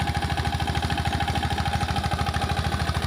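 An Apollo mini tractor engine runs in 3.5-foot cotton field rows, a steady, rapid mechanical chug that stays close and even throughout with no voices.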